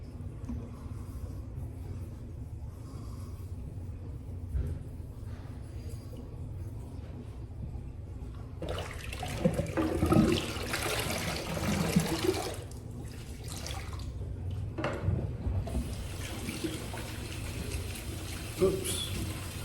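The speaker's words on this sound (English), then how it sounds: "I'm rinsing out my brush." A shaving brush is rinsed under a running tap after a straight razor shave, with water hissing steadily and splashing louder in bursts as the brush is worked through the stream; a voice speaks briefly at times.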